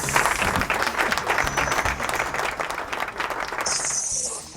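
Studio applause greeting the hosts at the start of a running-training podcast episode, a close, dense burst of clapping that carries steadily and then thins out toward the end, with no voices over it.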